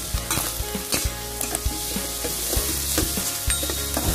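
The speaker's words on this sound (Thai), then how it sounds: "เราก็ใส่พริกกับกระเทียมลงไปผัดเลยนะครับ" Chili and garlic stir-frying in a hot pan for a Thai eggplant dish, a close, steady sizzle broken by repeated rhythmic clanks and scrapes of a spatula against the pan.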